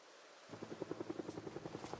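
A helicopter arrives, its rotor beating in a steady, rapid thumping rhythm that starts suddenly out of near silence and continues faintly at a distance.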